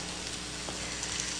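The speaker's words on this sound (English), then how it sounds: "Oh, I hear a little sizzle." Food sizzling in a pan while onions and peppers are cooked, a faint steady hiss filling the short moment with no talk over it.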